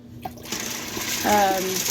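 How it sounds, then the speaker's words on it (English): Water pours steadily into a pot of dry beans, a broad rushing splash that swells louder toward the end as the pot fills, with no talk over it. "We're going to add another thing of water, fairly well full, about 3/4 of the way."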